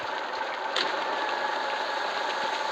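A truck engine idles in the video game Truck Simulator Ultimate with the windows open, a constant low hum and faint rattle, unchanging throughout, with no talking.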